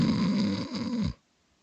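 A man imitates loud snoring with his voice, a close, rasping rattle lasting about a second before cutting off into silence.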